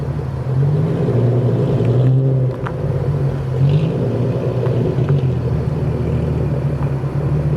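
Infiniti Q60 fitted with AMS downpipes running at full throttle, a steady loud engine drone and rumble that holds throughout with a brief dip partway, no voices over it.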